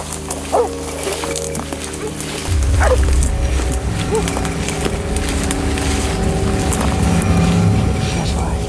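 Hunting dogs bark and yip during a hog hunt in brush, several sharp barks close by over a steady rumbling background, with someone talking throughout.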